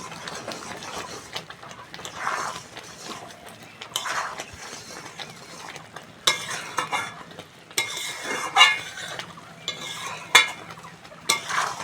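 Raw mango pickle with sugar being stirred in a pan, continuous scraping and soft sizzling with occasional clinks, growing busier and louder toward the end.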